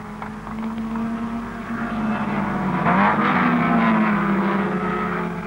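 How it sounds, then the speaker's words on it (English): A 1960 Formula Junior race car on its final lap howls past, a loud, buzzing engine note that swells and bends in pitch as it sweeps by the listener. "Last lap, and Taylor's 10 seconds ahead"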